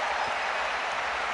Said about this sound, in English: A round of applause for Hülkenberg.